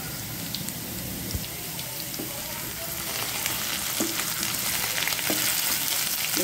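Potatoes frying in a pan with tomato, green chilli and ginger, giving a continuous close hiss and sizzle that grows slightly louder, with a few faint stirring clicks.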